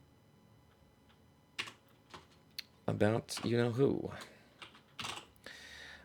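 Soft, irregular keystrokes clatter on a computer keyboard in short bursts, fairly close, with a person talking over part of the typing.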